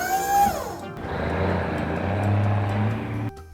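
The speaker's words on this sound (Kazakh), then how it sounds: "Тамаша, бұл қоқыс таситын көлік." A cartoon garbage truck drives past, its engine tone sweeping down as it goes by and settling into a loud, steady rumble before cutting off abruptly near the end.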